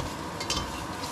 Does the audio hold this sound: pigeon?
no